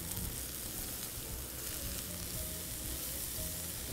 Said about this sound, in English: So let's get this all stirred up.